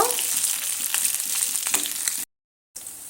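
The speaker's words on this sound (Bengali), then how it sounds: "আমি সমস্ত মাছগুলো একদম লাল লাল করে ভেজে নেব" Pieces of rohu fish fry in hot oil in a wok, a steady, bright sizzle with crackling spatters that cuts out briefly before returning.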